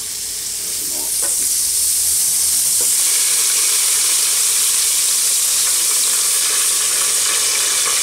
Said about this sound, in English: I'm just going to take my tongs and flip her over and start cooking the other side